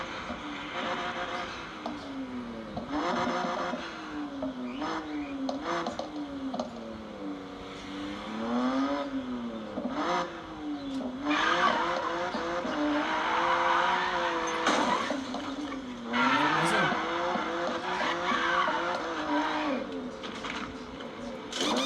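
BMW GTS engine revving and accelerating hard, the pitch climbing and falling through repeated gear pulls, fairly close, with occasional voices over it.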